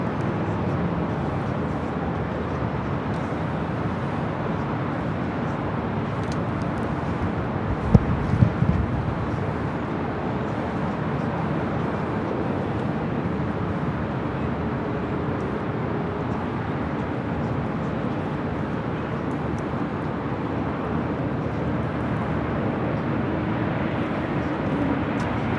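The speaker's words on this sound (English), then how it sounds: "Flight 12, coming up from Taipei at 777-300ER" Boeing 777-300ER airliner arriving at LAX from Taipei, a steady distant engine rumble with wind, holding level for the whole stretch with a brief bump partway.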